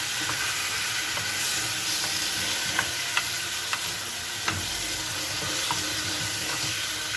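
Chicken pieces stirred and lightly fried in a pan, with a soft continuous sizzle broken by occasional spatula taps and scrapes, fairly quiet and close, with no talking.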